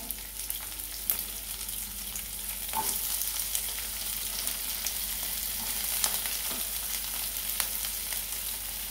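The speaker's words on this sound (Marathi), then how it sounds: "थोडंसं फ्राय करून घ्यायचं" Chopped onion and ginger fry in a pan with a steady, close sizzle that runs throughout, broken by occasional stirring clinks and scrapes, with no talk.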